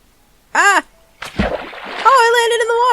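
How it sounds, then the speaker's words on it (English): A Minecraft player drops into water with a sharp splash and sloshing, near and fairly loud, between bursts of an excited voice that cries out before and speaks over the end. "Oh, I landed in the water!"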